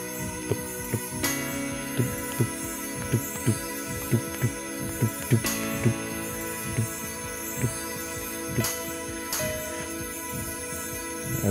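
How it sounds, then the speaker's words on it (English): Heartbeat thumps sit in a song from the rhythm game Hatsune Miku: Colorful Stage, steady low double-beat pulses under bright electronic music, fairly loud and clear. "I like the little heartbeats they put on there."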